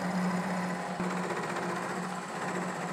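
Steady grinding whine of a milling machine cutting into old hardened steel rack material with a carbide 5/8 end mill, a continuous droning hum with a slight chattering texture.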